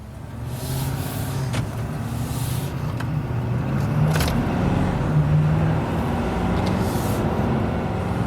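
A big, heavy truck drives along with a loud, steady low engine rumble and road noise heard from inside, with a few short clunks and hisses over the drone.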